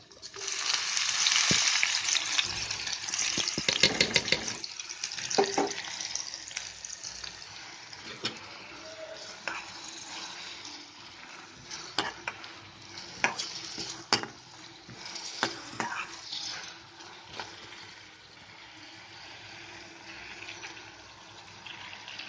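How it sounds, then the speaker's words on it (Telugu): Onions and dried red chilies fry in a pan with cumin, producing a steady hiss of sizzling oil, broken by occasional clinks and scrapes of stirring, with no voices. "ఇవన్నీ కొంచెం సేపు ఒక ఫైవ్ మినిట్స్ వేగాలండి"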